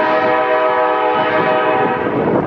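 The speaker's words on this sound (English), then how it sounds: "The train's coming, Paul." Train horn sounding close and loud as a train passes through downtown Anchorage, Alaska, a sustained multi-tone blare held for the whole stretch over rumbling rail noise.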